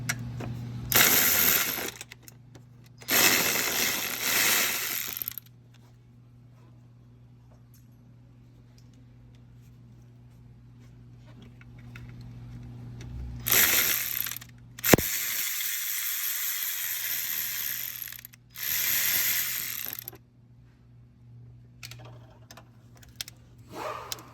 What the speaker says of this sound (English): We're also going to take off this bolt here that holds the harness to the alternator